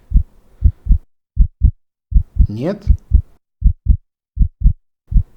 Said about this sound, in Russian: слышно только ваше дыхание и стук сердца